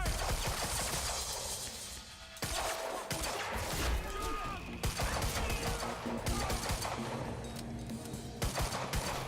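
Gunfire in the video game Quantum Break, with bursts of shots and sharp cracks arriving in clusters and separated by brief lulls, mixed with game sounds and faint voices.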